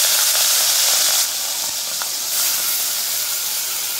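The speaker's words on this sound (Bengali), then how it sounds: "চিংড়ি মাছগুলো কড়াইতে তেলের মধ্যে তুলে দিলাম।" Prawns fry in hot oil in a wok, giving a steady, bright hiss of sizzling that holds close and even throughout, easing slightly partway through.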